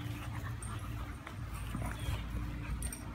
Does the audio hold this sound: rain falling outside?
no